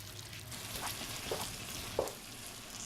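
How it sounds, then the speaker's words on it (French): Butter and mushrooms sizzling in a risotto pan while being stirred, a steady soft frying hiss with a few scraping stir sounds, close and moderate in level with no voices. "Ajoutez ensuite le beurre, puis les champignons, et mélangez jusqu'à ce que le beurre soit totalement fondu."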